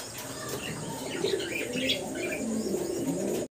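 Pigeons coo nearby in a continuous run of low, rolling calls over a faint background murmur.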